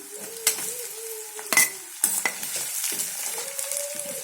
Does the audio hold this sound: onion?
yes